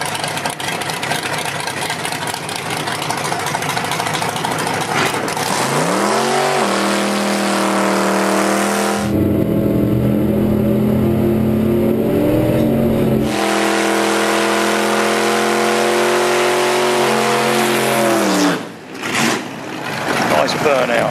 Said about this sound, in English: nice burnout, very nice.